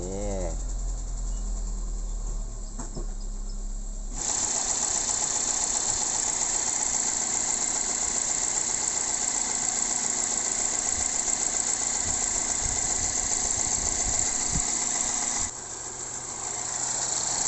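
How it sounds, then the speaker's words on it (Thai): A Toyota Corolla Altis engine, just fitted with a replacement radiator, cranks briefly and then settles into a steady idle, a continuous loud hum that holds for over ten seconds before easing down. "สตาร์ทเครื่องกันดูนะครับ"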